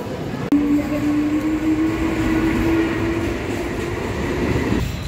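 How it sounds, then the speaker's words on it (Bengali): A local train at Sealdah station platform gives a steady, loud rumble with a high whining tone that rises and then fades. "6 নম্বরতে ট্রেনে উঠবো"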